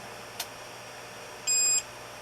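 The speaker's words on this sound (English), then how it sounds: "So you got a beep to alert you that the system has finished." A 3D printer chirps after finishing E-steps calibration: one faint short tick, then a single clear high electronic beep lasting about a third of a second, with no voices.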